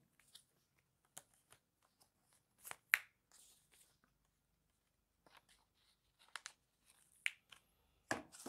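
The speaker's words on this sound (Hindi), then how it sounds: "ये कागज़ सबको पहले मैं डाल देता हूँ।" Packaging paper being handled while unboxing an Apple iPad 9th Generation indoors: sparse, faint crinkles and rustles come in short bursts separated by near-silent pauses.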